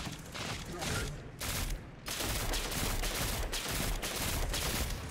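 Gunfire crackles almost nonstop in the Destiny 2 beta, loud rapid shots in dense volleys with only brief gaps, a voice talking over the firing.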